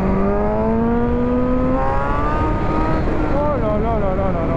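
A 2016 Suzuki GSX-S 1000 motorcycle accelerates hard from a standstill, its engine note climbing steeply through the gears, close and loud, with wind rush and someone talking excitedly over it.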